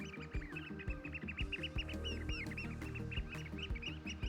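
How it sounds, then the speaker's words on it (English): Oystercatchers call on the Norfolk coast at Hunstanton, a busy flock giving rapid, overlapping piping notes at moderate distance, faint overall and without voices. "Oyster catcher."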